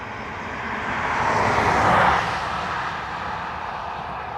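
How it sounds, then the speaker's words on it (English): A Ryanair airliner departing Dublin Airport, a broad jet roar that swells to a peak around midway with a rising tonal whine, then eases back while staying steady and moderately distant, with no voices. "Was that Ryanair departure quiet or acceptable or?"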